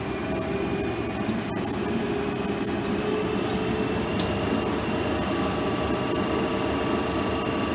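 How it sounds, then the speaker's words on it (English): The prime mover of a DC shunt generator in an electrical machines lab runs steadily, giving a continuous loud motor hum and whine that stays constant throughout with no speech. "Now I am going to run the prime mover of DC shunt generator by switching on the MCB and by moving the starter handle from left to right gradually."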